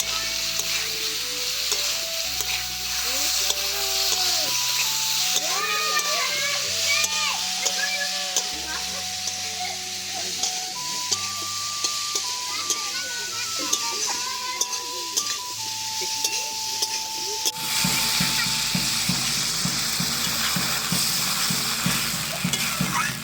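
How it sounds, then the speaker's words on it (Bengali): Rui fish with turnip, salt and turmeric sautéed in a pan gives off a steady sizzle with stirring throughout, under a running melodic background. "এবার সব কিছুকে একটু খানিকক্ষণ কষিয়ে নেব"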